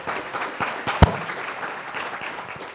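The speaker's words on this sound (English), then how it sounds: "Let's give them a round of applause real quick." A short round of audience applause for a panel at a conference hall, steady patter with one sharp loud clap near the middle.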